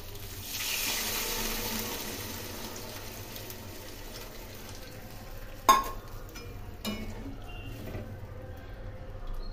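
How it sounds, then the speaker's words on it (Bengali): Water is poured into a pan of fried kalbaus fish for a thin curry: a soft rushing pour at first, then a quiet simmering hiss broken by a sharp clink of utensil on pan. "প্রথমে ভেজে রাখা কালবাউস মাছ দিয়ে দিলাম, দিয়ে এর মধ্যে জল দিয়ে দিলাম।"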